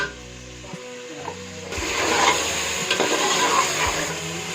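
Crushed chili stirred into sizzling masala for biryani, a steady loud frying hiss with scraping spoon strokes, close by and with no voices.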